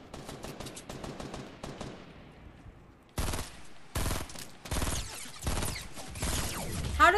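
Gunfire in Fortnite Battle Royale: a rapid burst of automatic shots at first, then several loud, sharp volleys of repeated shots separated by brief pauses, up close and with no talk over them.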